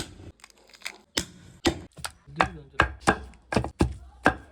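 Mutton bones being chopped with a knife for mutton rasam, a steady run of about nine sharp, close chopping thuds at an even rhythm.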